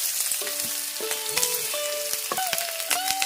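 Mustard seeds, curry leaves and chillies fry in hot oil for a Kerala-style chammanthi, a steady close sizzle broken by sharp popping crackles of bursting seeds, with faint tonal kitchen sounds in the background.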